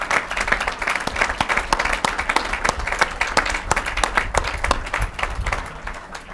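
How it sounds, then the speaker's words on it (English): An audience claps at the opening ceremony for West Virginia Route 10, a dense round of applause with sharp individual claps, steady then tapering at the end. "you've got to give him a giant round of applause"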